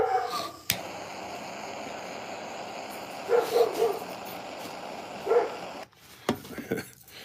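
Neighbors' dogs bark outdoors in a few short clusters of yips and barks, moderately distant, over a constant hiss of background noise with no talking.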